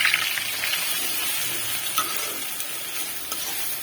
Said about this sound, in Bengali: মশলাগুলা মাশাআল্লাহ অনেক সুন্দর ভাজা ভাজা হয়ে গিয়েছে